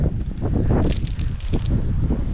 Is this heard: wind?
yes